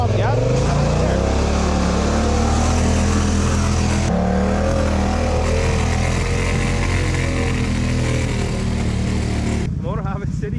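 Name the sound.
ATV engine accelerating on muddy trail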